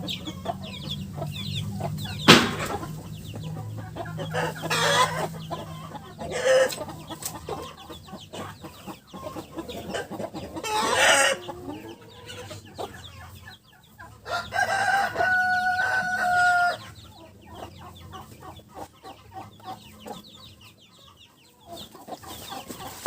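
Chickens cluck in a Ukrainian farmyard pen while a rooster crows loudly several times, with turkeys and broody hens nearby. The calls come close and clear, with no talking.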